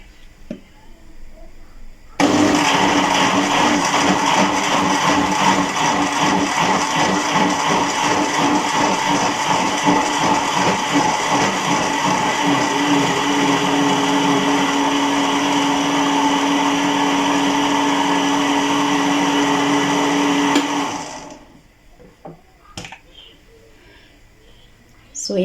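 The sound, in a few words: blender pureeing green sauce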